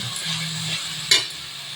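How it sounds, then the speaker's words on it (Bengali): A poppy seed spice paste fries in oil in a pan with a soft, steady sizzle, broken by one sharp metallic clink near the end. "পোস্ত দিয়ে সুন্দর করে ভেজে নিয়েছি মশলাটা মশলা থেকে সুন্দরভাবে তেল ছেড়ে দিয়েছে"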